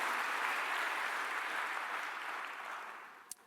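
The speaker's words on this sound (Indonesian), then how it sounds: "Tepuk tangan bagi Allah kita" Applause from a church congregation during a sermon, a dense sustained clatter of many hands that fades slightly toward the end.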